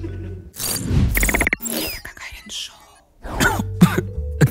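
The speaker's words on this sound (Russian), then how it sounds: "Кашлялся." Harsh coughing fits and throat clearing from a person indoors, several loud bursts spread through the stretch, mixed with nearby talk and whispering.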